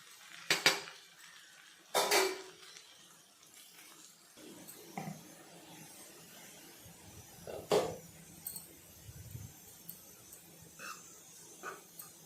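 Cooked rice being stirred into ridge gourd vangibath in a pan, giving a few sharp clinks of a spoon against the metal followed by soft, scattered scraping and tapping, fairly quiet and with no talk.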